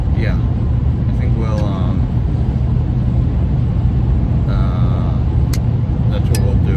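Steady car interior rumble while driving back to a campground, a constant low engine and road drone throughout with a person talking over it.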